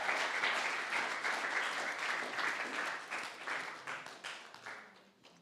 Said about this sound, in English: Can we get one more round of applause for Miss Mika Gallardo?